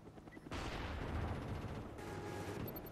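Gunfire in the video game Black Ops opens after a brief quieter lead-in and becomes a dense, loud, continuous burst of rapid shots that carries through to the end, with no voices over it.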